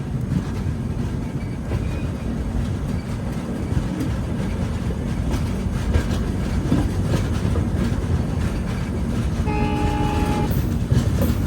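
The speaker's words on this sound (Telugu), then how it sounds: "భోపాల్ నుంచి బండి బయలుదేరిపోయింది." The Swarnajayanthi Superfast Express departs Bhopal Junction: a steady, loud rumble of rolling wheels and carriages fills the whole stretch, and near the end a horn sounds briefly over the din.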